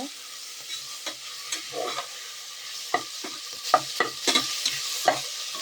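Ginger garlic paste frying in a little oil on a low flame, with a soft, steady sizzle under irregular light scrapes and taps of a spoon stirring in the pan, close and fairly quiet.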